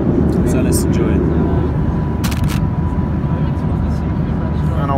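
Steady cabin roar aboard a Norwegian Boeing 737-8JP in flight over Denmark, a loud, constant low engine and airflow rumble with a brief hiss partway through.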